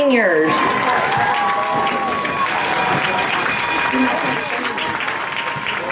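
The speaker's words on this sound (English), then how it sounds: "Let's give a round of applause for these seniors" Sustained applause and cheering from a crowd for the seniors at a high school football game, broad and continuous, with voices and a short sung or spoken phrase over the start.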